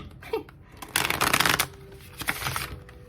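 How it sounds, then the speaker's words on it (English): A brand new tarot deck is shuffled in a few quick riffling bursts, close and crisp, with brief pauses between them. "I'm not doing a great job at shuffling this deck."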